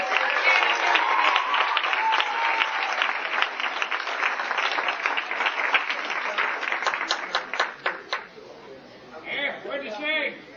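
Audience at a 1989 regimental booster club banquet bursts into sustained, loud applause that carries on for about eight seconds before thinning out, with faint chatter underneath as it fades.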